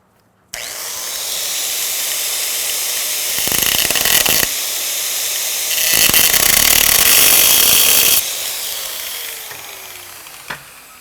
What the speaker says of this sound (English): That's gonna help keep that bar in place while I'm grinding on it.